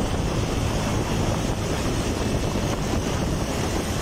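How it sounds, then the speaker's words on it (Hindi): Wind blows hard outdoors on a cloudy Sunday morning near the Lari Adda bird market in Lahore, a steady close rush buffeting the microphone with no pause. "हवा चल रही है, बादल बने हुए हैं।"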